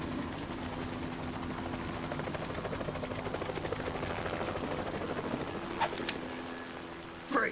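Helicopter in the Metal Gear Solid 2 tanker mission, a steady rotor drone with low rhythmic thumping and rain-like hiss running throughout, with a couple of sharp clanks near the end.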